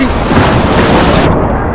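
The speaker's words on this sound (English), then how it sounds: "the size of these waves" Large Black Sea waves crash at Mamaia beach, a loud, steady wash of surf close by with heavy wind buffeting the microphone throughout.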